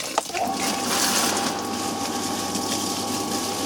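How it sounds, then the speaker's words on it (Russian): A pool pump switches on and pushes a steady rush of water out through a hose, a continuous gushing flow with a faint mechanical hum that holds at an even level after a brief knock at the start. "Включаем насос."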